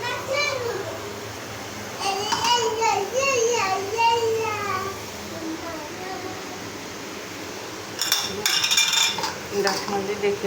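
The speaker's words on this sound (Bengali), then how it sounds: "আলুগুলো ঢাকনা দিয়ে ডেকে রাখবো, কষানো হোক।" Metal clatter of a lid going onto a cooking pot of potatoes and tilapia, sharp clanks near the end over steady kitchen hiss, with a voice talking earlier.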